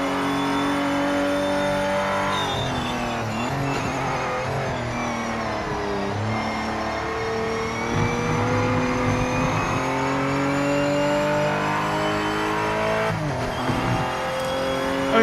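Race car engine from the Project Motor Racing video game, loud and continuous with rising and falling revs through gear changes, steady throughout with no talk.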